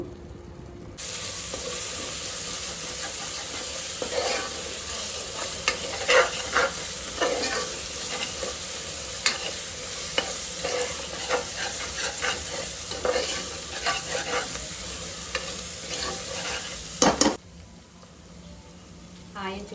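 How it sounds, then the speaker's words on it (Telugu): Onions frying in oil for a goat head curry, stirred steadily in the pan: a continuous loud sizzle with repeated scraping strokes throughout, ending in a few sharp clanks before the sizzle drops away. "చూసారు కదా మంచిగా ఫ్రై అయిపోయి ఆనియన్స్ ఆయిల్ సపరేట్ అయిపోయింది"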